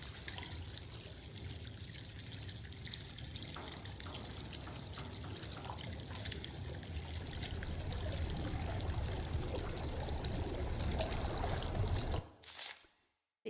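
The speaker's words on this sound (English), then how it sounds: "The ink drips." Dark ink drips and trickles in Bendy and the Dark Revival, a steady wet patter and stream that swells slightly louder before cutting off abruptly near the end.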